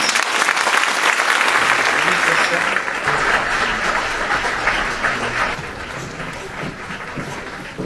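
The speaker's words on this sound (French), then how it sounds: "je vous demande d'applaudir les 12 qui sont sortis des urnes et qu'on félicite" A hall full of people at a town mayor's New Year address applauds the twelve newly elected councillors, loud sustained clapping from a large crowd that slowly tapers off.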